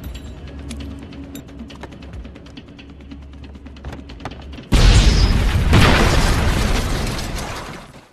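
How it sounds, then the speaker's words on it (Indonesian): Two speedboats exploding in the film Miami Vice: after a quieter stretch of rumble, a loud, sudden blast erupts and roars on for several seconds before fading. "Sonny dan Ricardo kemudian meledakkan 2 buah speedboat sebelum pergi dari sana."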